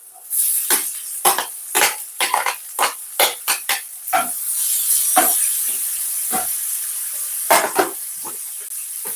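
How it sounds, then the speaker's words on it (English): Onions sautéing in a pan for Jamaican steamed callaloo, a steady sizzle and hiss punctuated by repeated spoon scrapes and stirring taps against the pan. "I'm just sauteing off these, sweating it off a bit"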